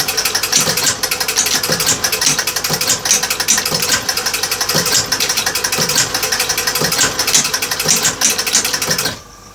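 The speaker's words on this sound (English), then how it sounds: "hold that out hole switch manually, and straight away the motor starts to run" An electric motor inside a Gottlieb Magnotron pinball machine runs steadily with rapid mechanical clatter and rhythmic ticking for about nine seconds, then cuts off abruptly.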